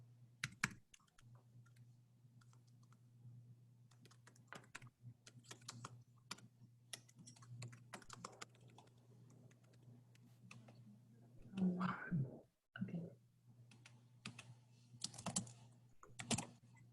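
Steady clatter of computer keyboard typing, fairly close and moderately loud, with irregular key clicks over a constant low electrical hum, a few louder bursts near the end.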